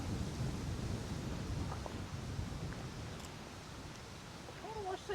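Wind and rain roar outdoors while fishing, a dense, loud, steady rushing wash with low rumbling gusts, and faint voices and bird chirps buried underneath.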